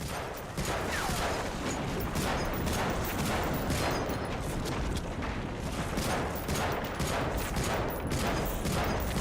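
Gunfire in the WWII shooter Medal of Honor: Frontline, a relentless stream of rifle and machine-gun shots layered into a loud, continuous battle din with regular sharp cracks.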